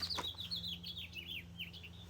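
A small bird chirps outside in a quick run of high, bright tweets that rise and fall in pitch, fairly near and clear over a steady low indoor hum.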